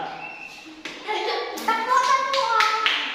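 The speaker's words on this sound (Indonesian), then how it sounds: "ayo, kasih tepuk tangan." Several rounds of hand clapping from a group of children, loud and close, building in bursts with voices mixed underneath.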